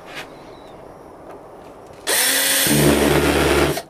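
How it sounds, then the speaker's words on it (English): A power drill driving a screw into a 3D-printed part whirs up suddenly at high speed and runs steadily for under two seconds after a quiet pause. "Let's grab the drill and get that done."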